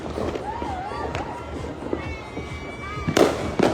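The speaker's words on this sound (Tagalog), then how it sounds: "kakaunti lang ang mga nagpaputok ngayon eh" Fireworks and firecrackers pop and whistle on New Year's Eve in Laguna, with rising whistles, scattered distant bangs and two louder near cracks at the end, while people talk nearby.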